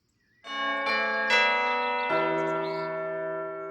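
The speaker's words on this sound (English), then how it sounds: "Then he rang the bell," A bell rings several times in close succession, each strike bright and sustained with long overlapping ringing that slowly decays.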